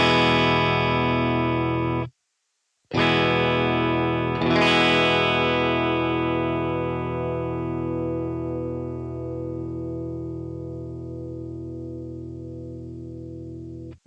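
Electric guitar played through an M-Vave Blackbox multi-effects unit with compression and a noise gate: full sustained chords ring out, cut to silence just after two seconds, then are struck again twice and left to decay slowly, loud and alone.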